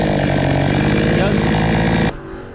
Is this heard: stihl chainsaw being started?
yes